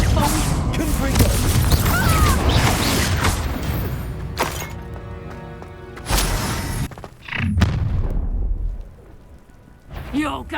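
Confringo blasting spell in Hogwarts Legacy exploding in a series of booming, crackling bursts, loud and close, with sharp blasts near the start and again later, while a voice talks over parts of it.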